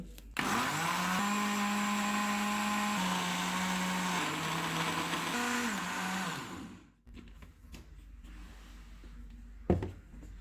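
A kitchen blender purees tomatoes for red sauce pasta with a loud, steady whirring roar that shifts pitch slightly. It stops abruptly after about six seconds, leaving a quiet room with a faint clunk near the end.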